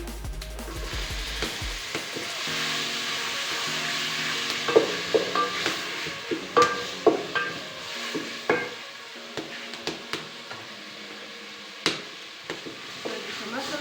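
Tomato going into a pan for a noodle dish, sizzling softly while a utensil stirs and knocks against the pan in scattered clicks and scrapes, fairly close.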